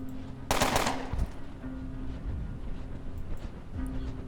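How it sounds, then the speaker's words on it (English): A loud burst of rapid gunfire aimed at a barrel in the video game Underrail, one sharp volley followed by quieter low thuds and ambient game hum. "I'm going to shoot this barrel"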